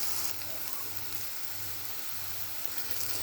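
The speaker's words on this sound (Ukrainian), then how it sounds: "Слідкуйте, щоб баклажани обсмажувалися рівномірно з усіх сторін." Eggplants frying in a pan for a honey-sauce dish give off a steady, moderate sizzle with a low rhythmic rumble beneath, continuous and close.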